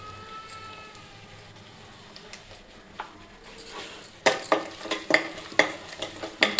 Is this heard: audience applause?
no